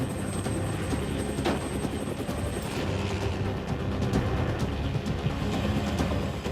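Helicopter rotor thrumming steadily at close range, loud and continuous, with multiple helicopters in the air over New Zealand during a film aerial sequence shoot; no talking.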